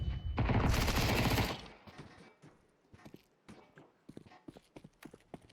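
Rapid footsteps in Counter-Strike 2, a dense burst of running steps up close at the start, then scattered lighter steps and clicks trailing off.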